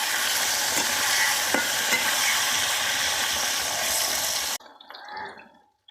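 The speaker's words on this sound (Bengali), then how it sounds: "তো একটু হলুদ দেবো, ভালো করে নেড়ে ভেজে নেব।" Eggplant pieces fry with turmeric in a pan, giving a loud, steady sizzle with a few clinks from stirring. The sound stops abruptly after about four and a half seconds, leaving quieter kitchen noise.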